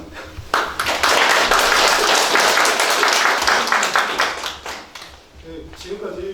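An audience claps through to the end of a presentation, loud and steady, then trails off into scattered claps with a voice over them.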